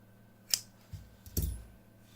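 Scissors snip crochet yarn for an amigurumi fox keychain: a couple of faint, crisp clicks close by in a quiet room, with no speech.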